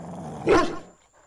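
A bulldog lets out a single loud, close bark that rolls into a short, low growl, then trails off into near silence.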